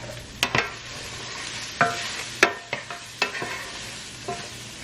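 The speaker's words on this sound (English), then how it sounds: "Actually, I'm gonna stir this real fast." A spatula stirs a beef and broccoli stir-fry in a pan, with a soft sizzle under a handful of sharp scraping and clacking strokes spaced through the stretch, close and without talk.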